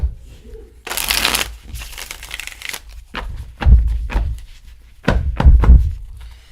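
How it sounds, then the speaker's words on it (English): A deck of playing cards is handled and shuffled in a tarot-style reading, with bursts of riffling and crinkling followed by several sharp thunks and taps as cards are squared on a surface, close and fairly loud. "We're going to shuffle."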